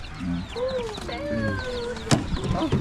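Chickens and chicks clucking and peeping close by in a backyard coop, with overlapping tonal calls, murmured voices in the background and a sharp knock partway through.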